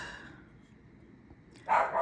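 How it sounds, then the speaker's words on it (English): A pet dog named Evie lets out a sudden loud bark near the end, after a quiet stretch of low room noise indoors. "Evie, Mama, why you bark?"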